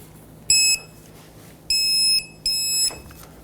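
A torque wrench set to 102 foot-pounds, tightening the lower ball joint nut on a 2003-2012 Chevrolet Colorado, gives three sharp electronic beeps. The first is short, the next two are longer, and all three sit over a low background hum.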